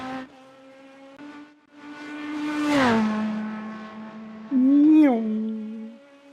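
GT3 race car in the iRacing sim, heard from outside: a steady engine drone with rich harmonics, swelling as it passes and drops pitch, then a sharp rev surge near the end, with a voice talking over it.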